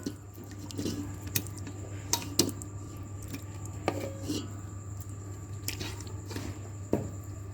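Pieces of chicken and its gravy are spooned into a biryani pot in layers, giving soft wet squelches and a few sharp spoon clicks against the metal at irregular intervals, with a steady low hum behind and no talking.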